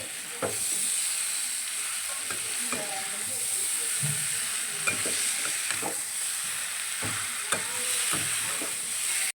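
Pointed gourd and prawns stir-fried with spices in a Bengali potol chingri, a steady close sizzle and hiss with intermittent spatula scrapes and stirring knocks against the pan.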